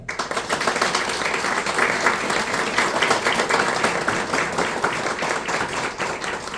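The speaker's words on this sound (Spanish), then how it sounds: "Un gran aplauso para Bárbara Cofré" An audience applauds a mathematics and physics teacher and writer being introduced at a book event, a full, even burst of many people clapping that holds steady throughout.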